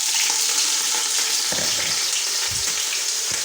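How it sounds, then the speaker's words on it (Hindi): Onions frying in hot oil in a pot with beef for a pulao, a steady loud sizzle throughout with a few soft stirring bumps. "ऑयल गर्म हो गया और इसके अंदर हम प्याज डाल देते हैं"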